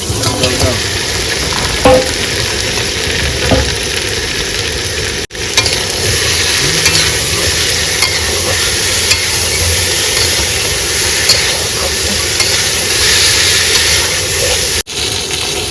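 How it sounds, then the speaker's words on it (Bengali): Fish fries in a spice masala, apparently cooked on a boat in the Sundarbans, with loud continuous sizzling and intermittent stirring scrapes; the sound cuts out briefly twice. "মশলা কষানো হয়ে গেছে আবার মাছ দিয়ে দেবো"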